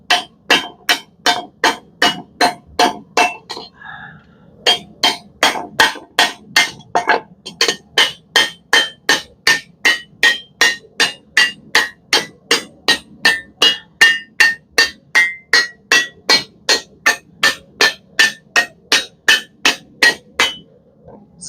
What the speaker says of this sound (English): Kind of hammer this out.